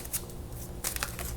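Tarot cards being shuffled, with brief bursts of riffling at the start and again toward the end over a quiet low hum.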